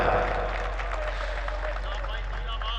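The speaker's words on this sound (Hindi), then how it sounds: "तो एक दफा तालियां बजा के बताएं।" A brief burst of audience clapping at a ghazal recital in Bairidih, a soft, even wash of hands heard over a steady low hum.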